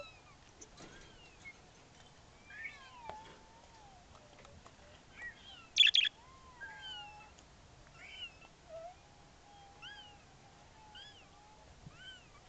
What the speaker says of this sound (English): we just want to see the birds